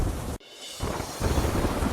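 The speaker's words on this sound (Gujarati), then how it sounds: "બારડોલીમાં ધોધમાર વરસાદના કારણે શહેરના અનેક વિસ્તારો પાણીમાં ગરકાવ" Heavy monsoon rain pours down over Bardoli, Gujarat, a dense, loud roar that cuts out sharply for a moment and then returns, building slightly stronger.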